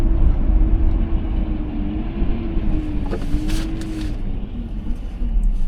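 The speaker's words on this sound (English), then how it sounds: "that's a garbage truck" A garbage truck moving through city traffic, heard as a continuous heavy low rumble with a droning engine tone that shifts slightly in pitch, plus a brief brighter burst of hiss partway through.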